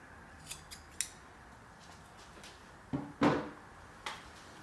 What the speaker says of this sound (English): Now that we put both of these strings through, I'll cut them pretty close.